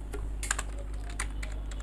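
Typing on a computer keyboard in a Microsoft Word session: a quick run of light, close key clicks in an irregular rhythm over a low steady hum, with no one speaking.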